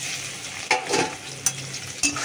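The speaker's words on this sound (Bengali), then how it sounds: "পেঁয়াজটা দেখো আমার ভাজা ভাজা হয়ে গেছে" Sliced onion frying in a wok with dried red chilli and nigella seeds, a soft continuous sizzle broken by three sharp stirring scrapes of a spatula, close up and without voices.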